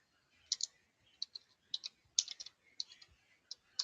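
Close, light clicks of typing on a computer keyboard while coding, irregular bursts of keystrokes with short pauses, crisp and fairly quiet against a silent background.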